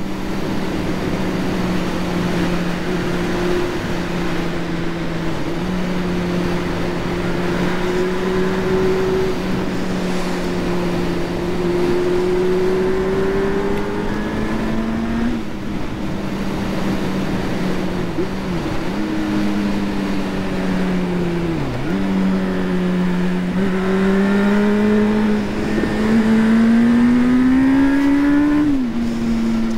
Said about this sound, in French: c'est une moto qui est incroyable au niveau de l'accélération dans les tours